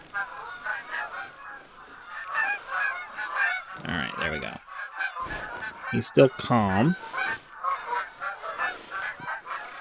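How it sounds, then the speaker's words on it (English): Several loud goose honks in the video game theHunter: Call of the Wild, close and rising in pitch, break out midway over a background of steady murmur and brief speech. "hopefully we can bag ourselves a bunch of geese"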